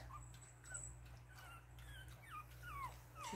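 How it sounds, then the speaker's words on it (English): Faint, high-pitched yips and whimpering from a three-week-old Pomeranian puppy come in short rising and falling bursts over a low steady hum. "She's probably barking at the cat."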